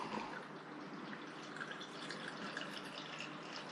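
La Trappe blonde beer pours into a glass at home, a steady faint liquid trickle and fizz running alone throughout, with no talk over it.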